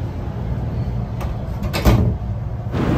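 Over a steady rumbling background, JR East train doors slide shut with a soft thud near the middle, and no chime sounds because of a door fault.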